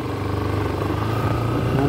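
A KTM Duke 200 motorcycle engine hums at a steady idle, close and continuous, its low throb even throughout with no clear revving.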